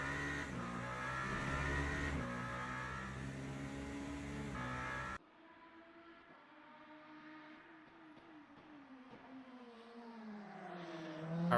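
A Porsche race car in a sprint racing video game set at Bahrain, its engine droning steadily with shifting pitch, louder at first, then dropping to a fainter, more distant tone as it moves away.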